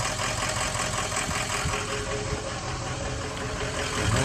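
A 2004 truck engine idles steadily at close range, a continuous rumbling drone with faint rhythmic pulsing and no voices.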